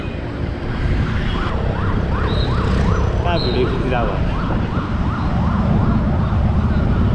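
A police van siren wails in a rising and falling pattern near a building on fire in Solti City, loud and continuous over heavy street rumble, while someone talks briefly nearby.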